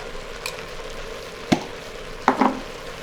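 Spices hit the hot pot of an Instant Pot on sauté mode for a sausage, kale and couscous soup. A low steady sizzle runs throughout, broken by a few sharp clacks and stirring bumps, with no voices.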